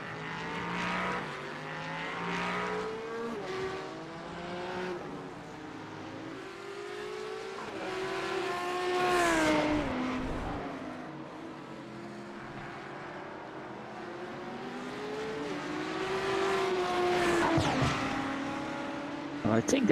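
A Lamborghini race car in a 4-hour sim racing event at Imola, its engine revving up and down through gear changes with a steady droning note, heard under commentators talking.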